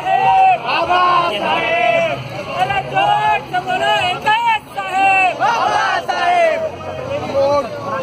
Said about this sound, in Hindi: बाबा साहब के नारे लग रहे हैं।